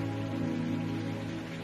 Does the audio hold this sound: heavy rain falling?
yes